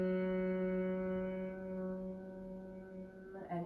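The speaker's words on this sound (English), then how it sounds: "a humming bee breath, bumblebee breath, but it's a humming with the lips closed on the exhalation" Bhramari humming bee breath in a yoga practice: a steady, close hum with closed lips, holding one pitch for several seconds with a rich buzzing tone, then breaking off at the end.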